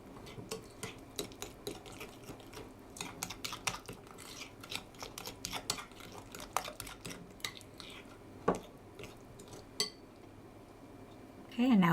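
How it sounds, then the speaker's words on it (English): A spoon scrapes and taps around a bowl of chocolate orange muffin mixture, a close, irregular stream of soft clinks and knocks that gives way to a brief louder sound at the very end. "It does need a good stir to blend it in well."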